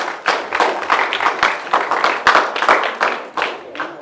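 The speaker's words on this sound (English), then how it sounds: "give these guys a round of applause" Audience at a school spelling bee clapping, a short burst of fairly close, distinct hand claps in an uneven rhythm, fading slightly toward the end.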